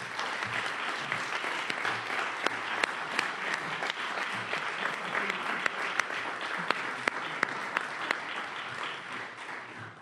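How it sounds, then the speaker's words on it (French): Warm audience applause for newly installed regents at a university investiture ceremony in Edmundston: steady, dense clapping from a seated crowd throughout, with a few sharper individual claps standing out, fairly distant and even. "applaudissons chaleureusement les nouvelles régents et régentes"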